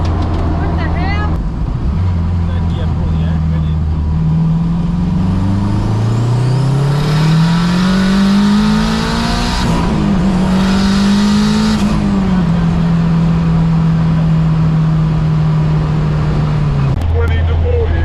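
A Honda Civic fitted with a newly installed engine drives along, its engine note rising and falling through revs, loud and close throughout with voices talking over it.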